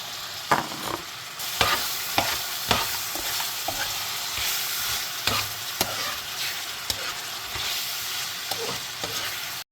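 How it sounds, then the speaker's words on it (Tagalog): Mixed vegetables for fried rice sizzle loudly in a hot pan as a spatula stirs them, the steady frying hiss broken by frequent sharp scrapes and taps against the pan, close up. "Igisa lang natin siya ng bongga."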